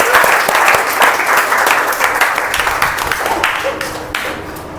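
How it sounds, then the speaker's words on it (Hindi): Loud, dense applause fills a corporate training session on AI and human talent, with steady clapping from a large audience throughout. "आप सबके लिए जोरदार तालियां।"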